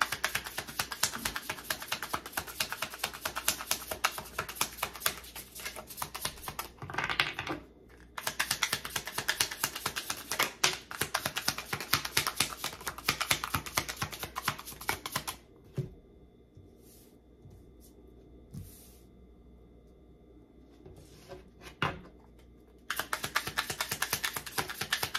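Tarot cards taken out and handled at close range: a dense run of crisp riffling and flicking that breaks off into a quieter stretch with a few scattered taps before the brisk handling resumes.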